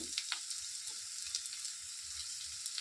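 Soft, steady sizzle of potatoes frying with a little salt for sabudana khichdi, a faint continuous crackle with light spits and occasional stirring scrapes, no voices.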